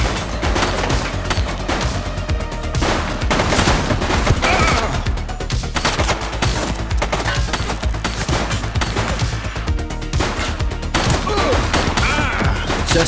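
Dense, sustained automatic gunfire in the police video game The Precinct, loud bursts and rapid shots rolling on almost without pause for the whole stretch.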